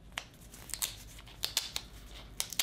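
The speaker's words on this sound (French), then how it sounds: "On va ouvrir l'enveloppe." A sealed paper envelope carrying a small printed logo is opened by hand, with close, crisp tearing and crinkling in several sharp bursts spread across the clip, and no talk.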